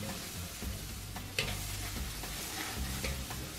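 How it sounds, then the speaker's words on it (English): Burger patties sizzle steadily in a frying pan, with a dense frying hiss, a sharp knock near the middle as they are flipped, and a low rumble underneath. "just nicely flip them."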